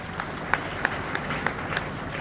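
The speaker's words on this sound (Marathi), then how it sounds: "एकदा टाळ्या वाजवा." An audience at a motivational talk for students, teachers and parents claps briefly, a soft, fairly distant patter with a few sharper individual claps standing out over room noise.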